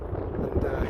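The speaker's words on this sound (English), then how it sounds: "It's very windy again" Steady wind buffeting a microphone on Bamford Edge in the Peak District, a low rumbling roar that fills the whole clip without pause.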